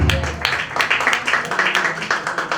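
An audience at a stage talent show claps loudly for a singer introduced on stage. The applause is dense, with sharp individual claps in a steady, close wash that lasts the whole moment.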